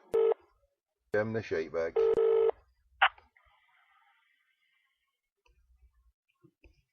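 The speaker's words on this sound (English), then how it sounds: "And he can't answer. Keep ringing." Telephone tones from a call being placed, a few bright beeping bursts and a short click, with a voice speaking over part of it and quiet gaps between.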